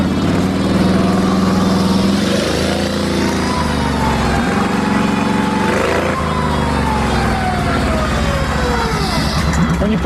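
Ridley automatic motorcycle engine rising and falling in pitch as the throttle is twisted and it accelerates, loud and close, with gliding whine-like tones throughout.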